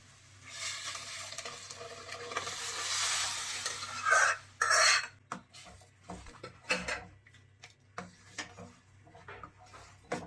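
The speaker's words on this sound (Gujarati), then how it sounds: "આપણે હવે આમાં ધીમે ધીમે દાળ એડ કરશું." Cooked dal is poured slowly into a hot tempering in a pot over a medium flame for a Gujarati-style spinach dal. It sizzles loudly at first, then fades into soft stirring and scraping with occasional clinks of a spoon.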